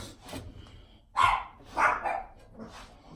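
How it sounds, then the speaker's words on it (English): Two dogs bark indoors in a kitchen with a few sharp, separated barks at moderate distance amid faint scraping and rubbing noises, and no one speaks. "What y'all barking for?"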